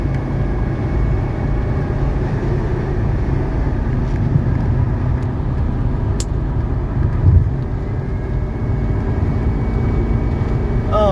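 A 1985 Mercedes 300TD wagon with an 85 rear gear pulls up to highway speed, a steady loud broadband engine and road roar that holds continuously throughout with no talking.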